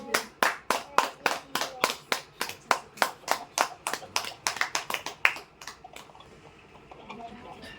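A church congregation claps together in thanks during a prayer service, about twenty sharp, evenly paced claps that grow looser and then trail off into faint room sound.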